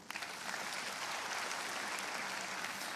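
A church congregation applauds for God during a sermon, dense steady clapping filling the room throughout, with no voices over it.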